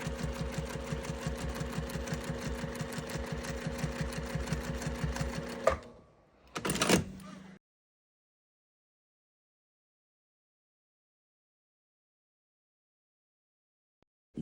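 A home sewing machine runs steadily for several seconds while quilting a wavy pattern with the feed dogs moving the fabric, then stops with a brief clunk and a short extra whir before silence.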